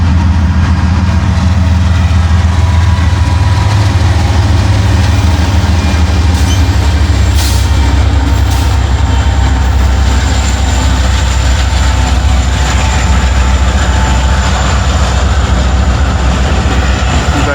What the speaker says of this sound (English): got an NS intermodal coming right around the one that stopped there, heading north